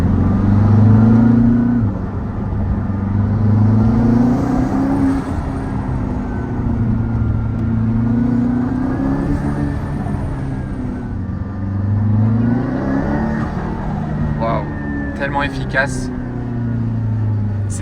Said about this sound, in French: C'est le bruit des turbos qu'on entend